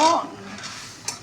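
A lid set onto a cooking pot of mung dal, a short metallic clank at the start and a faint clink near the end, with a brief voice at the very beginning.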